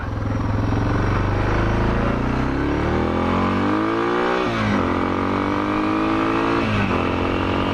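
A motorcycle engine runs loud and close, climbing steadily in pitch through the gears with brief drops at each shift.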